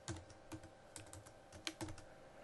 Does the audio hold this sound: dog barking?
no